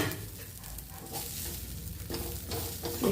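Whole tomatoes dropped into a hot pan for a Savji mutton gravy sizzle with a rough, steady crackle and occasional stirring scrapes, close and without speech.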